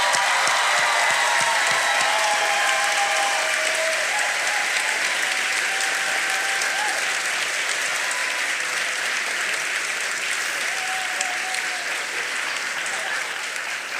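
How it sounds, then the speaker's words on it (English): Sustained, loud applause from an audience at a university raft debate, honouring the contestants: dense, even clapping fills all fourteen seconds and fades only slightly toward the end, with no voices standing out. "would you please join me one last time in extending a round of applause to all of our contestants tonight?"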